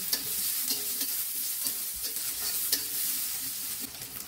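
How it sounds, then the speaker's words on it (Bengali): Whole green chilies and chopped onion frying in soybean oil, a steady close sizzle with the scrape and clatter of stirring throughout, no voices. "অন্য একটা কড়াইয়ে আমি এবার সয়াবিন তেল দিয়ে তাতে আস্ত কাঁচামরিচ ও পেঁয়াজ কুচি দিয়ে নাড়াচাড়া করে নিব।"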